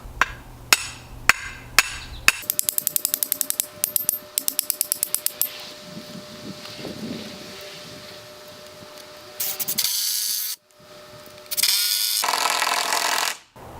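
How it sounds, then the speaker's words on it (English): A sledgehammer and an impact driver are used to put up a real estate sign post. Sharp, evenly spaced hammer blows ring out first, followed by several loud bursts of the impact driver's buzzing rattle near the end. "you're going to need a sledgehammer and an impact driver."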